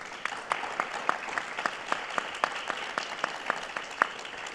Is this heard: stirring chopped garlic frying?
no